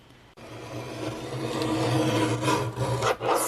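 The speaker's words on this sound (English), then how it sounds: "So I'm going to go ahead and just cut through both pages at the same time." Scissors cut through two paper pages at once during crafting, a close, continuous raspy rubbing and crunching that starts abruptly and carries on for a few seconds, with brief dips near the end.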